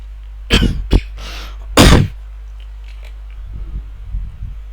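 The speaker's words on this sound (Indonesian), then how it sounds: "Mohon maaf, sedikit batuk." A person at a computer lecture coughs a few times up close, two sharp bursts followed by a longer harsh one, then a softer throat-clearing rumble trails off against a faint steady fan hum.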